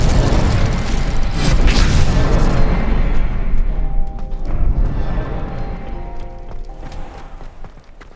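Incendio and Expelliarmus spells are cast in the Hogwarts Legacy video game, a loud, roaring, whooshing burst that dominates the first few seconds and then fades into softer game ambience with faint tonal music.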